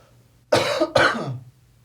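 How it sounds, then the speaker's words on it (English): Two harsh coughs in quick succession, close to the microphone, loud against a quiet background with a faint low hum. "hold on, I'm gonna cough."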